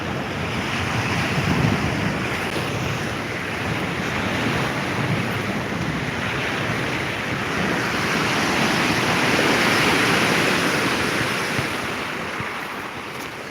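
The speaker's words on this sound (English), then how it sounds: "Now these waves don't break till they get near the shore." Lake Superior waves rolling and breaking near a rocky shore: a continuous loud wash of surf swelling and easing, with wind buffeting the microphone throughout and no voices.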